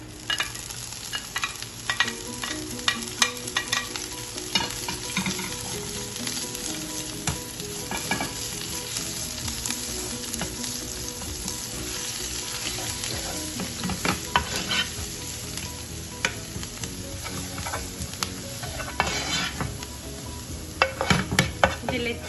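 Steady sizzling of garlic and green chilies frying in hot oil with occasional stirring and utensil clinks against the pan, close and continuous, no one speaking.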